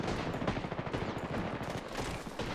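Rapid, dense gunfire from a shooting video game, with overlapping bursts firing almost continuously and loud throughout.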